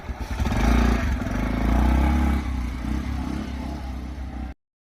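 A new motorcycle's engine idles and revs nearby, loud and rumbling, with some mechanical clatter before the sound settles slightly.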